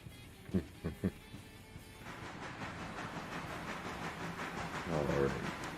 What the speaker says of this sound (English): The big train is still here.